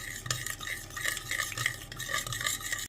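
Onion and mustard mixture for braised tilapia being stirred, with a steady close scraping and swishing that keeps going without pause, plus faint clinks of a utensil against the bowl.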